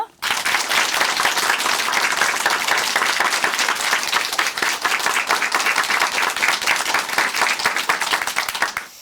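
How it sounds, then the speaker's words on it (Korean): Sustained, dense applause from a studio audience at a Korean Christian television program, loud and even for the whole stretch and heard alone. "조난이 자매님께 다시 한번 큰 박수 보내드릴게요."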